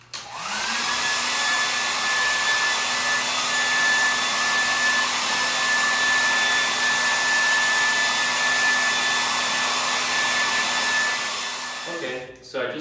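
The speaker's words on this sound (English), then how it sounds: "And now I'm just going to blow dry it into place." A handheld hair dryer blows hair dry with a steady, loud whirring hiss and a constant motor whine, running unbroken for about twelve seconds before switching off at the end.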